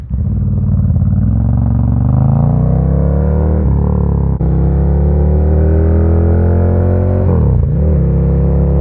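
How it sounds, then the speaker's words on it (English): A Ducati motorcycle ridden at about 60 to 65 mph, its engine droning loud and close with rising and falling pitch as the throttle shifts, plus steady wind rush and no talk. "So I got the bike up to around 60, 65, and I didn't feel any vibration."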